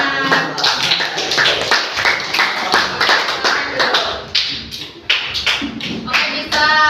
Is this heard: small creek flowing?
no